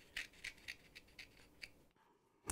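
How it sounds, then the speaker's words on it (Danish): Scissors snip through kinesiology tape for patellar tendon taping, a quick series of close, crisp cuts in an even rhythm, each snip short and bright, followed by a brief pause and one final louder snip. "Klipper dem lige til"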